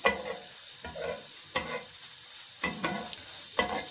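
Close, steady sizzling of sweet potato frying in hot ghee, punctuated by several sharp stirring scrapes, with no voices.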